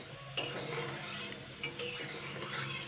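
A spatula stirs in a pan after semolina kala jamun sweets are fried, making soft scraping and a few light metallic clinks over a faint background sizzle.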